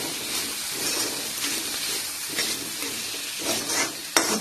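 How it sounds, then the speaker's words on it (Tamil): Carrot, beans and capsicum sautéing in a pan with a steady close sizzle, scraping stir strokes recurring every second or so and one sharp clack near the end. "அதையும் நல்லா வதக்கி விடுங்க."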